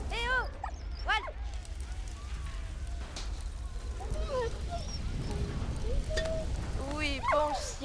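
Dog barks and yips in the WWI video game Soldat Inconnu, a few sharp calls near the start and end with whimper-like sounds in between, heard over game ambience while someone talks.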